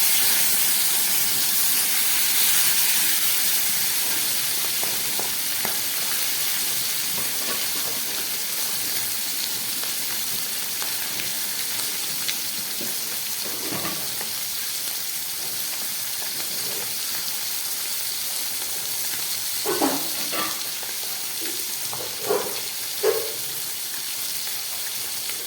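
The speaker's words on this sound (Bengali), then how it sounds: "মাছগুলোকে ভেজে নিচ্ছি।" Live bata fish rubbed with salt and turmeric fry in hot oil, giving a steady soft sizzling hiss throughout, with a few faint pops and clatters near the end.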